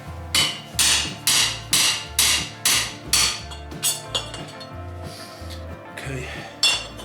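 Hammer striking a chisel on a metal exhaust baffle held in a vise: a steady series of about a dozen sharp, ringing metallic blows, loud and close, slowing and softening toward the end.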